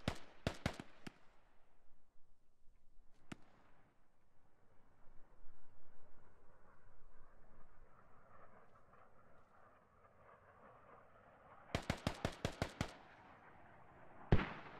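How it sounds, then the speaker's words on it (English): Mortar shells landing in the military video game Squad: a few sharp blasts at the start, then a low rumbling lull, and a close, rapid cluster of loud explosions near the end with one last heavy crack. "And here come the mortars."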